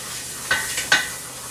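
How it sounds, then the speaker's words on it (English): Vegetables sizzle in butter and oil as they are stirred, with two or three short scraping stirs standing out over a quiet, steady pan hiss. "And we'll give that a stir"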